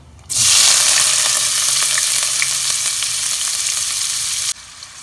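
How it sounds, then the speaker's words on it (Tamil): Sliced large onions hit hot oil with fried asafoetida for one-pot sambar rice, bursting into a loud, steady sizzle that holds for about four seconds and then cuts off abruptly. "பெரிய வெங்காயம் சேர்த்துக்கப்புறம் கலந்து விட்டுக்கிறேன்"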